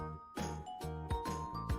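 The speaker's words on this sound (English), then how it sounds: "When the bell is hit with a force, the bell makes the sound." A hanging bell struck repeatedly, each blow ringing out with a sustained metallic tone that overlaps the next, about five strikes in quick succession with no voices.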